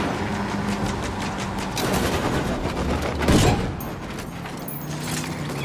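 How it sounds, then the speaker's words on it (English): Sustained automatic gunfire from the Ghost Recon video game, with loud rapid bursts and a sharp louder blast midway, set over a constant busy background of in-game action. "I'm shooting these fuckers."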